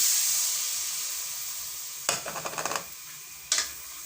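Coconut milk pours into simmering squash, string beans and crab in a pot, a soft steady sizzle broken by a short burst of splashing and stirring clatter, then a brief second splash.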